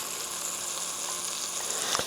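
Chunks of beef for stew searing in a hot pan, a steady close sizzle and hiss with a brief louder crackle near the end and no voices.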